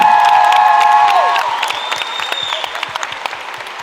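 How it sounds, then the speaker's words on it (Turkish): A studio audience applauds and cheers after a host asks for a big round of applause for a Turkish singer, with a sustained clapping wash that fades slightly while whoops and a tonal note ring over it. "Çok büyük bir alkış lütfen."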